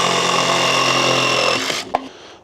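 Cordless power driver sinking screws through plywood into the bottom of a wooden pallet, a loud steady whirring grind that winds down and stops with a sharp click at the end.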